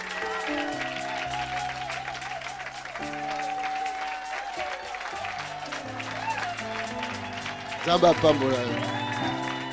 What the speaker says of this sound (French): Nous acclamons pour Jésus-Christ